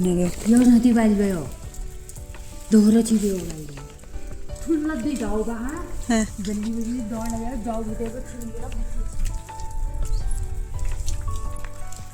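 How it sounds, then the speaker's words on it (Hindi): Rain falls with a steady, soft hiss and patter in Naini village, Almora district, in the hills, running beneath a person speaking close by for most of the time. "फाइनली जाते जाते बारिश शुरू हो ही गई है"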